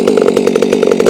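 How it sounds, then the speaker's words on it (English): A Stihl MS362C chainsaw runs loud and close, its two-stroke engine buzzing with a rapid pulsing rhythm and no voices over it. "we'll go ahead, fire our saw up"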